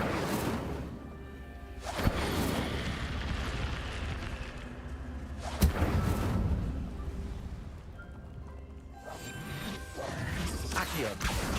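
Incendio fire spell cast in a wizard video game, a few loud fiery whooshing bursts with crackling impacts, each blast rising sharply then trailing off over a steady ambient rumble.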